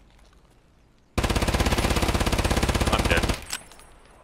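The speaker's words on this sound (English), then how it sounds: "He's shooting at me now." Sustained automatic gunfire in Escape from Tarkov, a rapid, evenly spaced burst of loud shots lasting about two seconds. It starts abruptly, then tapers into a brief echo, with quiet talk before and after.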